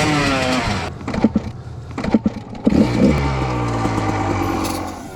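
An enduro motorcycle at the Iowan Hard Enduro race course, its engine revving and rising in pitch close by, with throttle blips and gear changes over steady engine drone, no talk.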